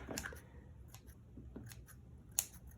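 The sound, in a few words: trimming a pom-pom for a chalk craft gnome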